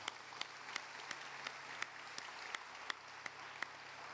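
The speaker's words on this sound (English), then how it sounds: "Let's give them a round of applause." An audience applauds first responders at a city State of the City address, a steady wash of clapping with a few louder individual claps standing out, moderately distant and continuous throughout.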